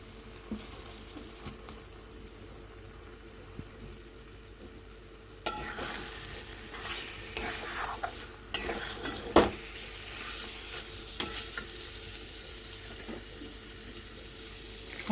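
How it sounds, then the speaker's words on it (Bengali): Fried potatoes being stir-fried with spice paste for potol aloo tarkari, a quiet hiss that suddenly grows into a louder sizzle with repeated scraping stirs. "আলু দিয়ে মশলা আরও ভালো করে কষিয়ে নেব।"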